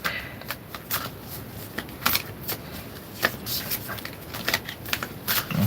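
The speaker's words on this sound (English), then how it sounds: "Just picking a card to see what energies are around us right now." A deck of cards is shuffled and one card drawn, with a run of quick riffling flutters and soft slaps at close range, some louder snaps among them and no talk.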